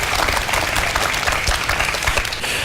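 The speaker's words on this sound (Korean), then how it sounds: "박수 부탁드립니다" An audience in a lecture hall applauds at an education concert, giving a short burst of dense, energetic clapping that stays steady throughout without any talk.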